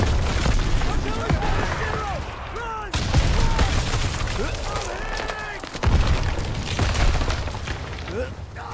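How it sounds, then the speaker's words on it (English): Artillery shells exploding in the World War II shooter Call of Duty WWII, heavy booms recurring every few seconds under shouting soldiers' voices and rattling gunfire, loud and close throughout. "Artillery!"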